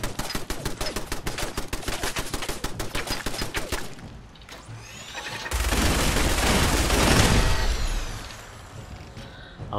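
Minigun fire in the video game Fallout 4: a long, loud, rapid rattling burst of shots for about four seconds, then a roaring, booming wash of explosion-like noise that swells and fades, with no talking.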